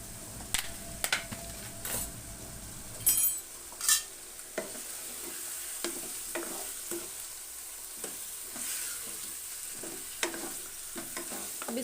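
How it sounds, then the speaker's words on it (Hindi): Korma ingredients with salt fry in a pan while a spoon stirs them, giving a soft ongoing sizzle broken by sharp clinks and scrapes of metal against the pan, close up, with no voices. "अब इसको हमने इसमें फ्राई करना है।"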